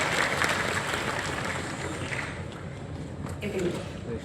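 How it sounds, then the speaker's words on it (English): Audience applause for the speakers at an MSME Summit event in Andhra, a dense, sustained clapping that fills the room and slowly eases, with voices faintly mixed in. "Round of applause everybody who has spoken"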